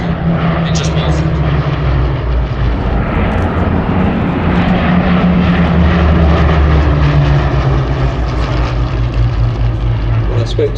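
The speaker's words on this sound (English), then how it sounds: "this aircraft really does sound like it's going very, very, very fast" A pair of Hawker Hurricane wood-and-fabric fighter aircraft fly at a 2024 airshow, the propeller engine roaring loud and steady throughout with a deep droning tone that shifts in pitch as the aircraft passes at speed.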